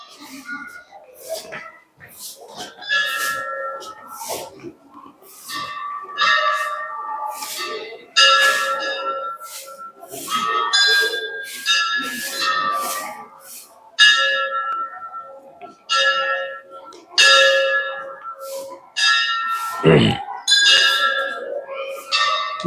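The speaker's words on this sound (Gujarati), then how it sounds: "વિડીયોના માધ્યમથી તમને અત્યારે અવાજ ઘંટનો તમારા સુધી પહોંચતો હશે" Bells at Jadeshwar Mahadev temple in Morbi ring repeatedly in a rapid, uneven series of metallic strikes, close and loud, continuing throughout.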